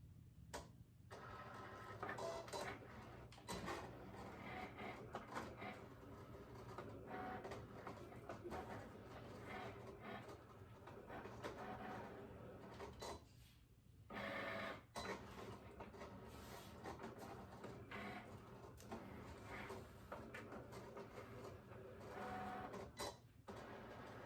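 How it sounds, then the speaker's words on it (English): A Cricut machine cuts regular vinyl, a steady mechanical whir with repeated ticking and shuttling strokes running continuously at close range, with brief pauses, and no one talking. "I'm going to feed it through the Cricut machine"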